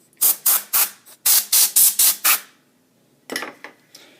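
Short bursts of compressed air blown over a wet iPhone 5 LCD during repair, about eight rapid hissing puffs in a quick rhythm, then a pause and a few more, close and sharp.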